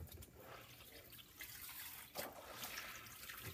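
A basket of Romney wool locks is dunked in soapy wash water, giving soft sloshing and trickling sounds with a sharper splash partway through, fairly faint and close.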